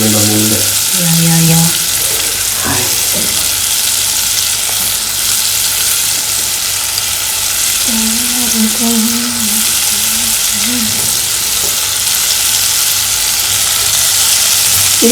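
Butter heats and sizzles inside a pressure cooker, making a loud, continuous frying hiss for the whole stretch. A few brief tonal sounds appear early and midway, and there is no clear talk.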